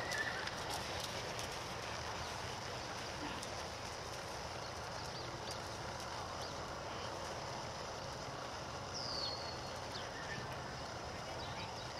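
Steady clip-clop of several horses walking on a hard surface, continuous and moderately close, with a faint whinny and open outdoor ambience.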